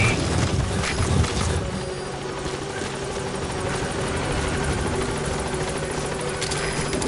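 Pequod support helicopter in Metal Gear Solid V: The Phantom Pain arriving at a landing zone, a loud steady rotor thump and turbine roar that holds throughout without pause.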